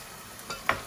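Meat dropped into a pan of spices, ginger and garlic paste with a brief sizzle and a couple of sharp hisses and clinks over a quiet background.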